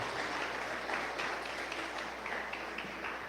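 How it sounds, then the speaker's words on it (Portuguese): A church congregation applauding during a family worship service, a steady, moderately distant round of clapping that holds evenly for a few seconds. "Você pode aplaudir Jesus?"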